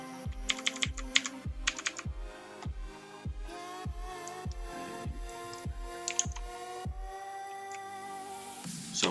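Typing on a computer keyboard while writing PowerShell code, with quick close key clicks in bursts that settle into a steadier rhythm. No one speaks.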